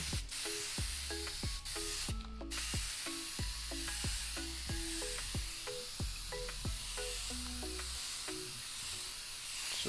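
A refillable aerosol paint sprayer, a Jacquard YouCan or Preval spray system, hisses steadily and up close in a continuous loud spray, with a rhythmic pattern of clicks and faint tones behind it.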